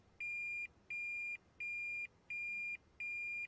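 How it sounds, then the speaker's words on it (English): Five evenly spaced electronic beeps from a 2010–2015 Toyota Prius reverse-gear warning buzzer, each about half a second long, repeating steadily at a clear, moderate volume with no talking. "The R will begin to flash, a buzzer will sound"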